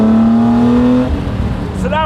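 A Jannarelly Design-1 engine revs hard from close by, its pitch climbing steadily before dropping away, then rising again in a quick second rev, with a voice audible over it.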